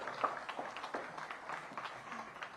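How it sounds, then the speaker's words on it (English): Crowd applause at a city summer youth employment program kickoff event, scattered claps, steady and moderately loud throughout, no talking. "Please give them a round of applause."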